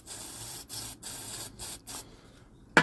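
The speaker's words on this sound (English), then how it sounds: "So a quick little spray." Several short hissing bursts from an aerosol spray can aimed at a lawnmower's spark plug and engine block, each burst a second or less with brief gaps, close and fairly quiet, followed by a sharp clack.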